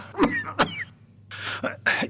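A man coughs in several separate bursts, close up and fairly quiet, with a throat-clearing quality and short pauses between them, heard alone without talk.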